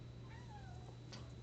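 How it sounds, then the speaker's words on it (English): A pet cat gives a single drawn-out meow, faint and slightly distant, over a low steady indoor hum. "If anybody heard him meow"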